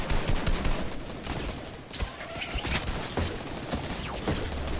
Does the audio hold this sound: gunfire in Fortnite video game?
yes